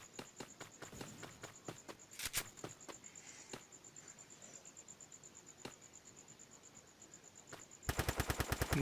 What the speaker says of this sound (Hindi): गन चलत है